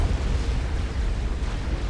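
A continuous, heavy roar of overlapping synthetic blasts in Supreme Commander: Forged Alliance rumbles without a break, loud and deep, like a chain of explosions merging together.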